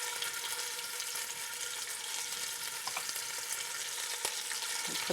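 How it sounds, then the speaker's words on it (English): Steady, close hiss and crackle of meat frying in hot fat for goulash, continuous with faint occasional pops. "But now we have a nice sizzle"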